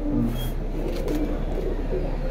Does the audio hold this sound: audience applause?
no